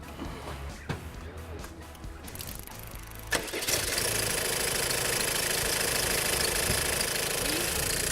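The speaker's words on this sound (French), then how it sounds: "la courroie elle couine" Car engine at a community repair garage with a slipping, squealing drive belt. The engine runs steadily after a sharp start, with a constant broadband whine and rattle throughout, and some talk early on.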